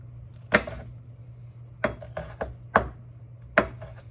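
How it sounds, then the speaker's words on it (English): A knife chops julienned vegetables into dice on a cutting board, five or six sharp, close knocks at an irregular pace, with a steady low hum beneath. "So we're going to turn those sideways and then just cut those into dices"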